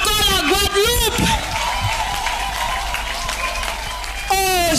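A church meeting crowd claps and cheers in celebration of Guadeloupe, a loud sustained wash of applause with a voice rising over it at the start and end.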